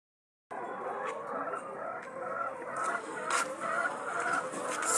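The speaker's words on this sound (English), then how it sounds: "See, guys, chicks eating." Poultry farm chicks feeding, a faint busy chorus of soft cheeps and clucks with scattered pecking sounds, growing slightly louder, no talk.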